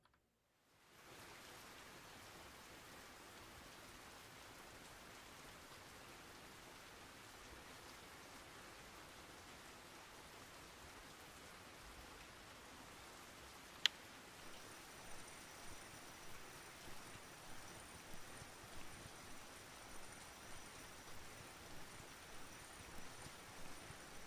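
Steady, faint rain hiss in the fishing video game Russian Fishing 4, continuous and even, with a soft rhythmic pattern emerging in the later half.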